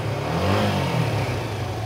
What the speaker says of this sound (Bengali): এ হচ্ছে বাইকটি সাউন্ড